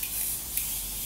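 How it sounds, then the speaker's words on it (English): A single short hiss of Morphe Continuous Setting Spray misted onto a face, close and fairly quiet, with a faint second puff partway through. "for setting spray, she picked the Morphe Continuous Setting Spray."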